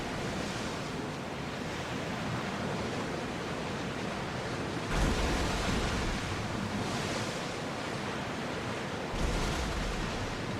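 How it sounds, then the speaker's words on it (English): Heavy ocean waves roll and crash while sailing a ship in Assassin's Creed Odyssey, a continuous loud roar of surf and wind surging twice, with no voices. "Those are not small waves."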